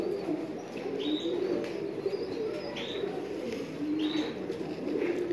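Pigeons coo repeatedly at a rooftop loft in Lahore, a steady murmur of soft overlapping calls close by, with occasional chirps and a brief flutter of wings.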